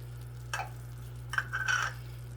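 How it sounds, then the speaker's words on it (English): Candied yams seasoned with nutmeg and ginger are stirred in a pan, giving two short, quiet scraping bursts over a steady low hum, with a faint sizzle and no talking. "let's get this stirred around"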